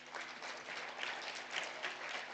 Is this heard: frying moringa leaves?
no